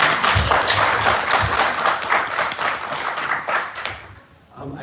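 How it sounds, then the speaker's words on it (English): An audience applauds warmly after a talk on a report about South African arms sales, dense steady clapping that holds loud throughout and thins out only in the final moment. "A big round of applause."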